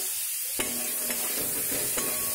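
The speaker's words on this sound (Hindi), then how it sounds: "सबको इसको के लिए फ्राई कर लूँगी पहले" Garlic, ginger and cashews fry for kadai paneer, a steady close sizzle with a few soft scrapes of stirring in the pan and no talking.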